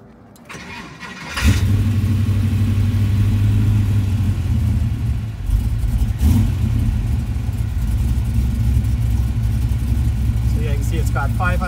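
A 1969 Chevrolet Chevelle convertible with a rebuilt engine cranks briefly and fires, then settles into a loud, rumbling idle with a small rev partway through, heard up close, with a voice speaking near the start.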